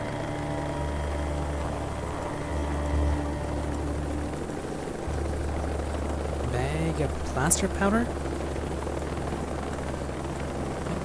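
In the video game Project Zomboid, a helicopter's steady low beating hum drones continuously in the background while a person talks briefly over it.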